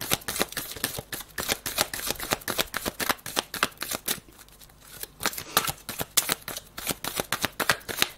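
Playing cards being shuffled for a tarot-style reading, a steady run of crisp riffling bursts close up with a brief lull midway, no voices.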